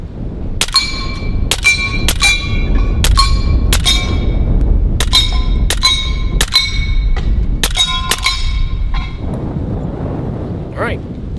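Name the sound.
slugs hitting steel Texas star targets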